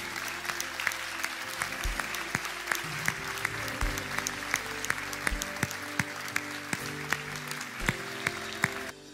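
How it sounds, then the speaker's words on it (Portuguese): Church congregation applauding after a sermon, a sustained soft patter of many hands with a few sharper individual claps standing out. "Aplaude ao Senhor pela sua palavra."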